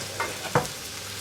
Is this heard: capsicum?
yes